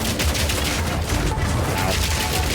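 Gunfire in Path of Exile 2 from a mercenary switching between armor-piercing and standard rounds, a dense rapid fusillade of loud shots packed close together, with faint speech in the mix.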